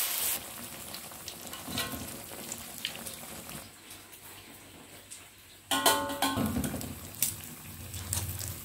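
Soaked tempeh mendoan frying in hot oil, giving a steady crackling sizzle that swells into a louder, busier burst partway through, with no voices.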